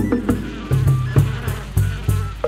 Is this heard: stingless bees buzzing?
yes